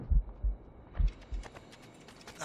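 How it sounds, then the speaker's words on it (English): A slow, heavy heartbeat pulses low and thudding in the Assassin's Creed Rogue video game while the character is poisoned, several double-beat throbs at an even rhythm with no talk over them. "Keeps my heart beating."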